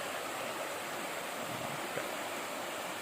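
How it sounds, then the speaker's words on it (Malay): A shallow, wide, clean river flows past a campsite at Kampung Padang Stang in Gerik, Perak, under light drizzle, giving a steady broadband rush of moving water with no speech heard. "Macam ni lah keadaan sungai."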